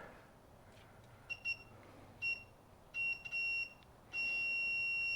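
A multimeter on continuity mode beeps while testing the wiring of a 1971 Suzuki T350 motorcycle, giving several short high-pitched tones and then a longer sustained beep at the end, all fairly faint against a quiet background.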